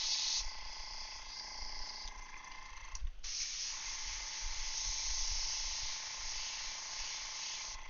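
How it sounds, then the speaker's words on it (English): Airbrush cleaner blasting out of an airbrush while a Gunpla model is painted, a continuous close hiss with a brief break near the middle before the spray resumes steadily. "Spray it all out"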